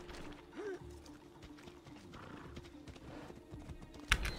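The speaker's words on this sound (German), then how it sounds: "wir kriegen hier ein Pferd" Horse hooves clip-clopping with a brief whinny amid Assassin's Creed Odyssey game ambience and clicks, ending in a sharp louder clatter.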